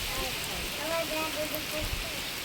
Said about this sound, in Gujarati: તો તમે જુઓ કેટલો બધો વરસાદ પડે છે